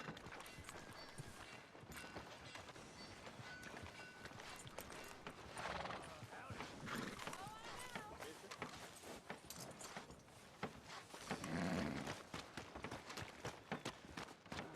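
A horse's hooves clip-clop steadily on a town street in Red Dead Redemption 2, soft and fairly close, with distant background ambience and occasional faint voices.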